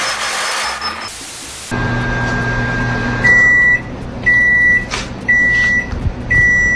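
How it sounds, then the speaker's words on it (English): A running microwave oven hums loudly and steadily, with a rattling drone, as a series of four evenly spaced electronic beeps sound over it, with no one talking. "My microwave's broken."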